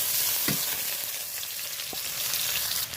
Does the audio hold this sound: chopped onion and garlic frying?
yes